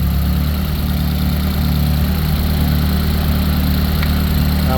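Idling engine of a Ford Focus ST heard up close, a steady low drone with an even pulse that holds without change for several seconds, no voices.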